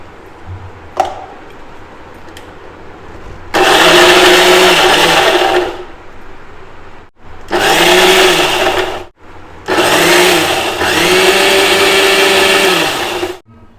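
A mixer grinder whirs loudly and close in three long bursts, stopping briefly between each run, as it blends raw mango with a little ice water.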